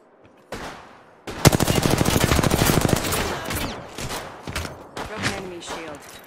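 Rapid automatic gunfire in Apex Legends, a dense burst of loud shots lasting a couple of seconds, followed by scattered shots and game effects, with a voice talking over part of it.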